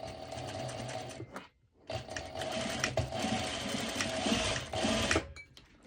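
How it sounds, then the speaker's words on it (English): A sewing machine runs a straight stitch over a loop joining a bikini back strap to a shoulder strap, a steady close whir that pauses briefly before resuming and running on. "I'm going to do a straight stitch one more time over this loop"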